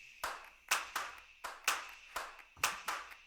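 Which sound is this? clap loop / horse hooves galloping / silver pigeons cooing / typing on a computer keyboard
clap loop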